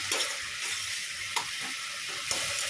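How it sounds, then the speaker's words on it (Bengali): Note shak greens frying in a pan with a little salt and turmeric, a dense close hiss and sizzle broken by a few spatula strokes stirring the leaves, with no voices over it. "এই শাকটাকে খুব ভালো করে ভাজবো"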